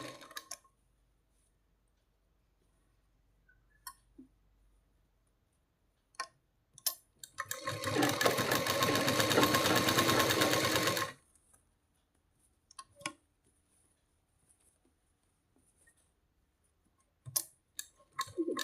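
A sewing machine runs in one sustained burst of about three and a half seconds, stitching a one-inch folded hem on a saree blouse. Scattered light clicks and taps come before and after in an otherwise quiet room.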